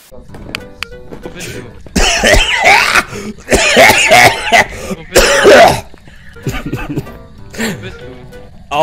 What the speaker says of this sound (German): jetzt habe ich Kopfschmerzen wegen dem Husten